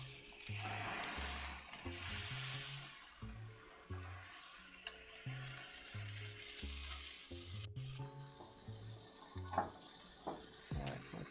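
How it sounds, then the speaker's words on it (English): Naan bread sizzles on the griddle side of a grill in a steady, close hiss, while a repeating low tonal pattern plays underneath throughout, and no one speaks. "Give these a little bit more time over here on the griddle side of the grill"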